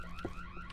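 Alarm sounding in the Boo Men video game, a brief electronic tone pattern with repeating pitched beeps over a continuous background.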